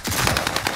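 A short burst of rapid automatic gunfire in a first-person shooter video game, loud and close, with shots packed tightly together over less than a second.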